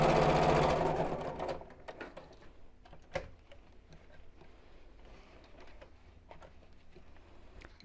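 Sewing machine stitching a Biscornu zipped pouch, a loud steady run of stitching for about a second and a half, then quieter clicks and handling sounds as the fabric is turned.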